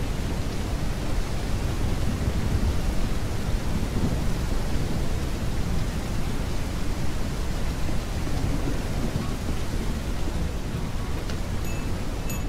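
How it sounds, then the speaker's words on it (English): Heavy rain in the video game Ranch Simulator pours steadily with a dense, continuous roar and low rumbling beneath, no voices, constant and loud throughout. "Oh, that rain is getting pretty heavy."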